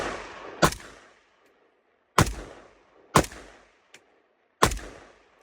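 Rifle shots at an outdoor shooting range crack out loud and near, four heavy reports with long echoing tails and uneven gaps between them, plus one fainter short pop.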